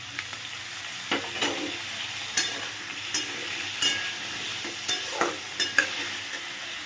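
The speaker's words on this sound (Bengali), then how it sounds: "দিয়ে দেব চৌকো করে কেটে রাখা আলু।" Cubed potatoes frying in a pan with a few salted, turmeric-rubbed prawns, a steady sizzle punctuated by regular scraping stirs of a spatula, roughly one every half second to second.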